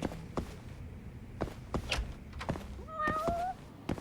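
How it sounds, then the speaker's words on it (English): Cats meow in the video game Judgment, several short mews close by with one drawn-out, wavering cry near the end, set among soft thumps and light footsteps. "Look at those cats."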